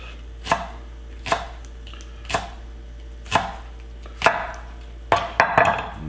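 A knife slices green onions on a cutting board, with about eight crisp, separate chops spaced roughly a second apart, then a quick cluster near the end, close and clear with no talking.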